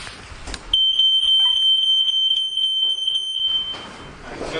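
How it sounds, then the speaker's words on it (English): A smoke detector alarm sounds during a routine fire inspection of an apartment building, a loud, steady high-pitched electronic tone holding for about three seconds before cutting off, with faint room noise around it. "we're just going to test smoke detectors"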